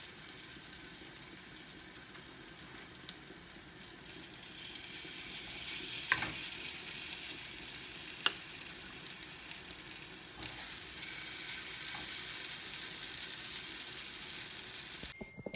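Small meat patties fry in a pan to brown, giving a soft, even sizzling hiss throughout with a few faint clicks of the pan or utensil, no voices.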